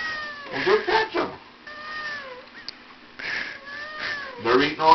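A cat meows repeatedly in short plaintive bursts, some drawn out into whiny caterwauls, close and clear, while a person talks to it between the cries.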